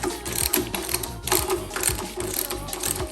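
A hand ratchet clicks rapidly in short back-and-forth strokes while tightening bolts on an aluminum power steering pump, the pawl chatter close and clear with no talking.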